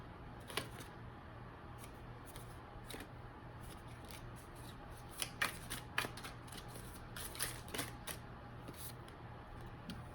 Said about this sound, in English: Dropped too many cards, we just need one more card.